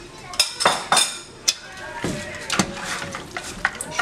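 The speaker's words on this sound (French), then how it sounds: "Je mélange." A utensil stirs oxtail broth ingredients in a pot, giving a series of irregular metallic clinks and scrapes against the pot's sides, close and fairly loud, with quieter gaps between strokes.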